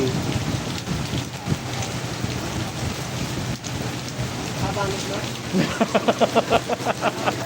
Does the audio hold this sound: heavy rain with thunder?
yes